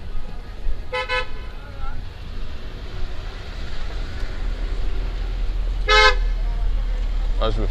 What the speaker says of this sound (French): je me fais klaxonner de partout